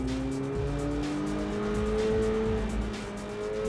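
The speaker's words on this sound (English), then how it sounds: "this car was being driven totally by Sam, using just his head and his breath" A car pulls out of the pit lane at Silverstone circuit, its engine note rising steadily through the gears, moderately close and without any talk.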